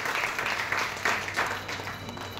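A crowd at an awards ceremony gives loud, sustained applause, a continuous wash of clapping that swells slightly in places, with no voice over it.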